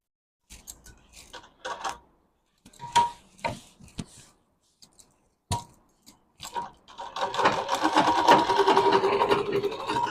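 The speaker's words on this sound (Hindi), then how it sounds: "अब इसे भी हम यहाँ से सिलाई लगा लेंगे।" A sewing machine stitching a bag: scattered clicks and short handling sounds come first, then the machine runs in a steady, fairly close whirring stitch for the last few seconds.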